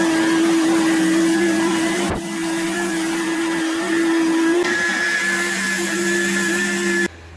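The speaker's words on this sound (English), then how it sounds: "So you can either rake it up or just go back over the top using the lawnmower, and that'll clean everything back up." A lawnmower runs over a lawn to collect clippings and loose dead debris left after aerating, a loud steady motor whine with a constant hum that shifts slightly in pitch, up close, with no talking.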